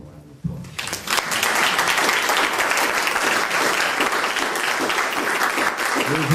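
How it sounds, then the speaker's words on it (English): Audience at a school board of education meeting claps for retiring district staff; applause starts abruptly after a brief pause and holds steady and fairly close, with faint voices underneath. "I'd just like to give them a round of applause"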